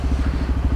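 A motorcycle engine running, a brief low rapid throb with even pulsing, close and fairly loud, alone.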